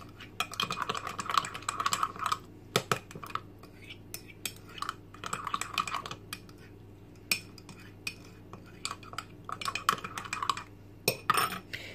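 A spoon clinks and scrapes against a small bowl in quick bursts, stirring baker's yeast into water, separated by short pauses.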